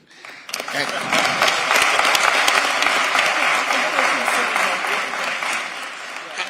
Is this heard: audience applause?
yes